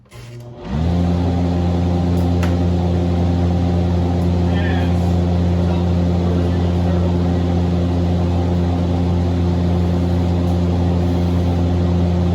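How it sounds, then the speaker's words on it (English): A fan runs in a garage with a loud, steady hum that starts abruptly near the beginning and holds evenly for the rest of the stretch. "Let's turn that fan on real quick."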